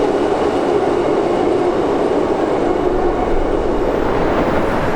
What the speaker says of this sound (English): The Fremantle line is serviced by A-series rolling stock